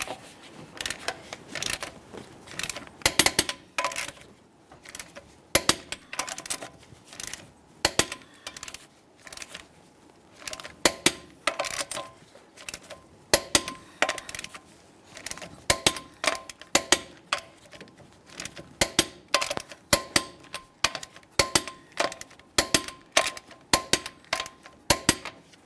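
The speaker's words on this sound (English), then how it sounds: "we'll be torquing these to that 140 in a crisscross manner" A torque wrench tightening wheel lug nuts on a 2007-2013 Chevrolet Silverado 1500 in a crisscross order, heard as a long series of sharp, bright metallic clicks and clinks in irregular bursts, close and without talk.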